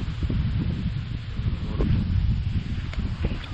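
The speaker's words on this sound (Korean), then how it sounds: "바람 소리가" Steady wind blows across the microphone at a lakeside park with a low, rumbling buffet and faint rustling, continuous and fairly close, with no voices.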